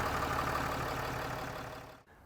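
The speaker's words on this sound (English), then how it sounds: "Start and run the engine until it's warm" An RV engine idles steadily with a low, even hum while warming up on level ground, fading and cutting out abruptly near the end.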